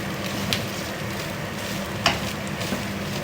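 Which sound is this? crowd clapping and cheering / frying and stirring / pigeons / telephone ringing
frying and stirring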